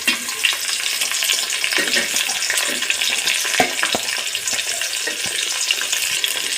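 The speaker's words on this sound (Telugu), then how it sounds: "టమాటా కూడా వేసుకున్నాం టమాటోలతో పాటు తెల్లపాయలు కూడా వేసేసుకున్నాం" Tomatoes and onions fry in hot oil for a village-style aloo biryani, a steady close sizzle with scraping stir strokes throughout and no talking.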